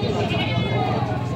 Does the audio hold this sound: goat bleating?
yes